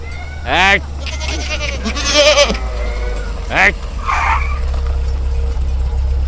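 Several goats bleat nearby in hill country, one wavering cry after another with a couple overlapping, over a steady low rumble of background noise.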